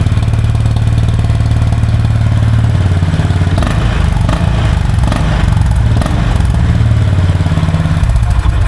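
Honda CB350 RS motorcycle idling in neutral, a steady, loud low exhaust thump that runs unbroken and close with no one talking over it.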